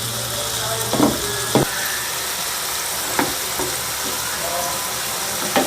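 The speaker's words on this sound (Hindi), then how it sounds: "अब इसमें हल्दी जायका नमक डालेंगे और 4 मिनट तक मीडियम आंच पर पकाएंगे।" Turmeric, spices and salt for a lotus root sabzi cook in a pan over medium heat, a steady close sizzle with a few sharper clinks and stirring scrapes.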